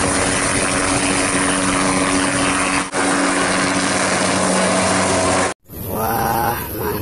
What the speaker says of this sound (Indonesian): yang ini helikopter mengangkut logistik